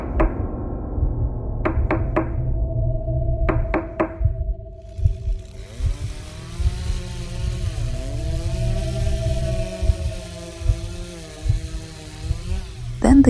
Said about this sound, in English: Suddenly a knock on the door.